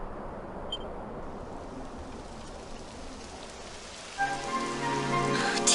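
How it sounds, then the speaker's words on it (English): Rain begins falling in a Dragon Quest XI game scene, a steady broadband hiss of drops building over a few seconds, with brief bird calls early on and a tonal music swell entering near the end. "It would have to go and start raining, wouldn't it?"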